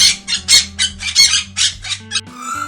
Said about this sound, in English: This sound is sparrow.